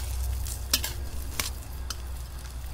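Leftover cooked rice being stir-fried in a pan, a soft steady sizzle with scraping stirs and a few sharp utensil clinks against the pan, close up and without talk.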